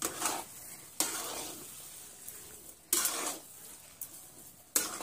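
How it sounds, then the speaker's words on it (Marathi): Semolina sheera being stirred in a pan with a spoon, giving soft scraping and sizzling strokes in a few distinct bursts close by, with no talking. "आणि हे एकदा परत हे हलवून 1-2 मिनिटांसाठी वाफवून घेऊया आपण"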